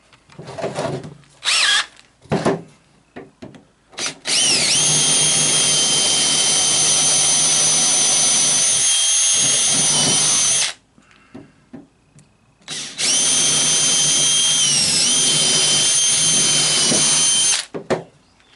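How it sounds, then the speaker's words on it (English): A power drill with a 1/4 inch bit pre-drills bolt holes in wood for a porch swing, with a few short trigger blips and then two long, loud, whining runs separated by a brief pause. "we're going to drill for our pre-drill for our bolt holes with a 1/4 inch bit"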